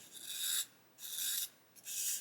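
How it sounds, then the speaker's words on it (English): Three back-and-forth strokes of a sanding stick across thin brass photo-etch parts braced on a model bomb roof used as a jig, each a close, dry rasping scrape separated by brief pauses. "I'm just going to pull the sanding stick that way"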